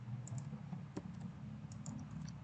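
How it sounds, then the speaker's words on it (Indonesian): Quiet computer keyboard clicks, a few light keystrokes like a save shortcut, over a low steady hum. "kita Ctrl S dan kita coba jalankan"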